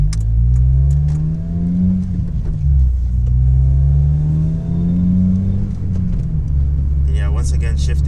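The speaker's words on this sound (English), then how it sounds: "the exhaust is kind of louder because it's cold, I guess." Honda Civic Si exhaust on a cold winter drive, a deep droning rumble rising and falling through revs and gear changes, loud and close, with someone talking over it.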